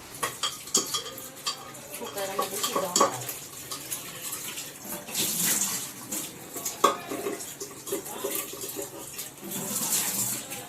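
Potatoes are rinsed under a running kitchen tap, with water splashing in bursts alongside clattering of a pot and utensils, close and moderately loud.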